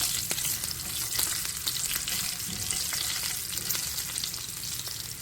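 Green and red chilies frying in oil for besan chutney, a constant crackling sizzle with scattered sharp pops and light stirring, moderately quiet and near, no speech.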